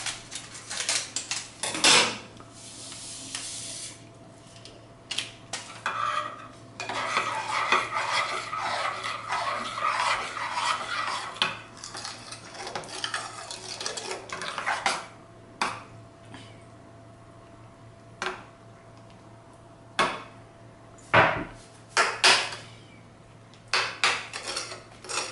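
A spoon scrapes and stirs strawberry drink powder into a mixture in a bowl, giving close, intermittent rasping and clinking strokes with brief pauses between bursts.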